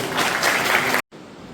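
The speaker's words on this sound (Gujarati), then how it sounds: "સમય બીજો ન લઈ આપણે એમને તાળીઓથી આવકારીએ" A school audience claps to welcome the principal at a career guidance event for women, giving a short dense burst of applause that cuts off abruptly.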